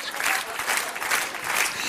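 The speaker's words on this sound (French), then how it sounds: "applaudissez encore ce merveilleux numéro de patin" Sustained audience applause for a skating act at a New Year's Eve cabaret show, a dense steady wash of many hands clapping in waves for the full stretch.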